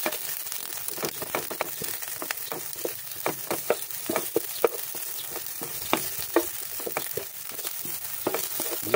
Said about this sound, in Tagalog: Gisahin lang natin bahagya ang ating hipon